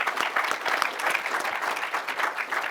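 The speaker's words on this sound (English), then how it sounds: "please join me in a round of applause for a great panel" Audience at a Sportradar CONNECT conference applauding a panel on AI and fan engagement, with dense, steady clapping filling the room throughout at an even, moderate loudness.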